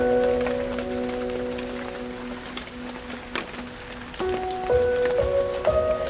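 Rain falling at an outdoor wedding ceremony, a steady soft patter of drops on surfaces that runs throughout, with sustained tonal music or hum layered over it and no talking.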